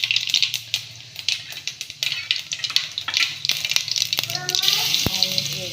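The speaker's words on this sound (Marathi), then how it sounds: "मी आता त्याच्यामध्ये थोडीशी मोहरी घालते" Mustard and cumin seeds spit and crackle in hot oil in a pan, a dense run of close popping sizzles with a faint voice in the background.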